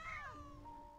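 Cartoonish cat meows from the Genshin Impact video game, a short rising-and-falling mew with clear tonal harmonics, loud and close, with no talk over it.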